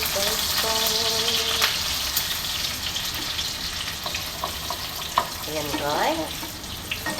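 Pieces of food frying in a pan in a home kitchen, a steady close sizzle running throughout with clatter of utensils, while a person talks briefly over it.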